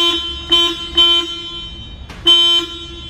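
The horn of a Genie Z-40/23N electric articulating aerial work platform sounds in several short beeps, then one longer blast, loud and nearby, with a steady electric hum underneath.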